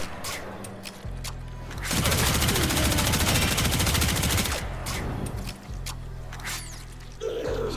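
In Warframe, a Prisma Tetra rifle fires a sustained full-auto burst of rapid crackling shots that lasts a few seconds. Quieter game sounds come before and after the burst.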